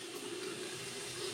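Running water rinses through hair as conditioner is washed out, a brief, steady, hissing wash of moderate loudness with no voices.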